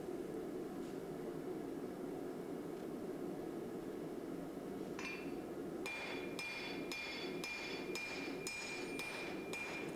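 A Damascus steel hunting knife blade is hammer-forged to a taper: after a steady background roar, a string of sharp, ringing metallic hammer blows lands in a regular rhythm over the second half.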